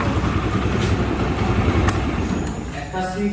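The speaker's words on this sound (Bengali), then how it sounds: "ইঞ্জিনটার সাউন্ড দেখেন তো ইয়া মাহারি সাউন্ড দেখেন অরিজিনাল সাউন্ড" A used motorcycle engine runs steadily nearby, a continuous loud rumble with a few brief spikes, and a voice can be heard faintly behind it.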